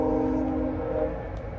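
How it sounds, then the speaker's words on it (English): A GO commuter train passes near a Petro-Canada car wash, a steady low rumble with sustained tonal hum that holds loud across the whole stretch and eases slightly toward the end, with no talk over it. "Oh, there goes a GO train."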